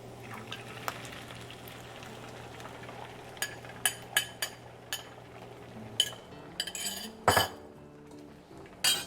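Eggs going into a pan after bacon has been fried, a soft sizzle under a low hum, punctuated by several sharp clinks of utensils and pan knocks, close and without talk.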